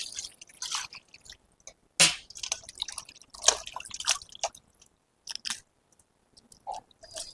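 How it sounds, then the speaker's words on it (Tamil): Raw quail meat is rinsed by hand in water, making close, intermittent wet splashes, drips and squelchy handling noises with short pauses between them and no talking. "இப்போ தண்ணி ஊற்றி அலசி எடுத்துக்கலாம் காடையை."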